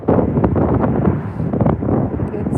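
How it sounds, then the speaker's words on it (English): Strong gusting wind from Storm Eowyn at Manchester Airport buffets the microphone with loud, rough, continuous roaring that swells and eases in gusts. "It's really bizarre the way it's gusting"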